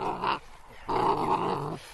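A Karelian bear dog puppy gives two close, rough growls in short bursts, the second longer and louder, with no other sound around them.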